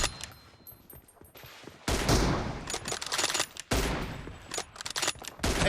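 Rapid bursts of automatic gunfire from an online shooter game come in dense volleys, loud and close, separated by brief quieter gaps.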